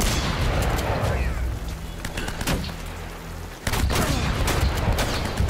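Gunfire from an enemy blind-firing in Uncharted: Drake's Fortune: dense bursts of sharp shots in rapid volleys, loud and close, with a brief lull before the firing resumes, and a voice talking over it.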